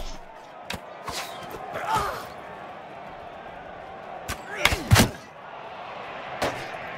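Scattered gunshots crack in the video game Mount & Blade II Bannerlord, with sharp single reports heard spaced apart and a tight cluster near the end, under low battle ambience.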